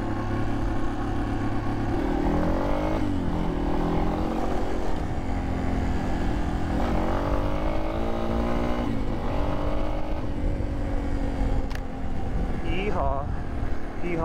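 Yamaha XT250 motorcycle riding over trails, a continuous engine drone whose pitch climbs and drops through gear changes, with a rider talking throughout.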